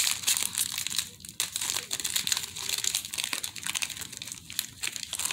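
A Panini Prestige football card blaster pack is torn open with loud, close crinkling and crackling of foil wrapper, a continuous busy stream of sharp crumpling rustles with no speech.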